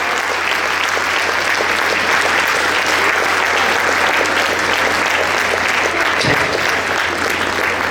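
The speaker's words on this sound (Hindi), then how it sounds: "असली हकदार, तो असली तालियां बजनी चाहिए इन लोगों के लिए।" An audience at a gala night claps loudly and continuously, a dense, sustained wash of applause that fills the hall for the whole stretch with no pause.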